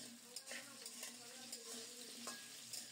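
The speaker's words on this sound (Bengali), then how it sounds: "ডালে দেওয়ার জন্য মূলাগুলো ভেজে নিচ্ছি।" Radishes being fried in a pan for a lentil dal give a soft, continuous sizzle with light stirring scrapes and a few small taps, close but quiet, lasting only a few seconds.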